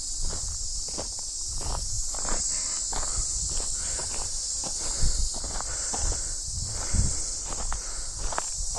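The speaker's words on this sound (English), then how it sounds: "Whatever kind of insect that is obscenely loud." A loud, constant high insect drone fills a shaded wilderness campsite, steady and unbroken throughout, with faint rustling and footstep-like shuffles underneath.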